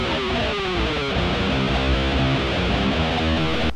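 Electric guitar runs through a California Sun pedal plugin at its default settings, giving a thick, driven, bass-heavy tone with sustained chords and notes that fill the whole stretch steadily and loudly.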